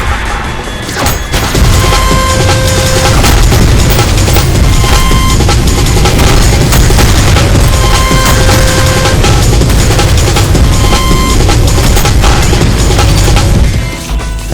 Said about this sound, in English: You will then massacre a mighty multitude of men with the addition of your first gun.